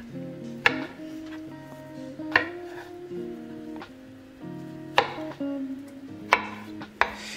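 A knife chopping aloe vera into small squares, about six sharp, irregularly spaced chops standing out over a steady tonal hum in the background.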